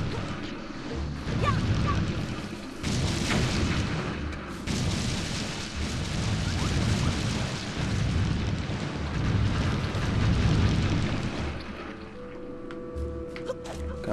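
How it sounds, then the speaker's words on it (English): In The Legend of Zelda: Wind Waker HD, a bomb goes off with a heavy boom, then a rumbling burst of debris and echoing crashes that swell and fade across several seconds before the scene settles. "Well, there's a bomb."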